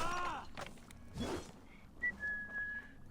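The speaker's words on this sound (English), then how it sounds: "Just keep whistling your happy tune." A character in Assassin's Creed Valhalla whistles a short tune, with a few thin clear notes drifting over quiet game ambience and a brief rustling burst in the middle.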